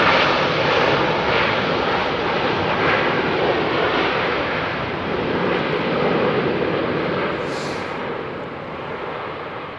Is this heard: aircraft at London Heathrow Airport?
yes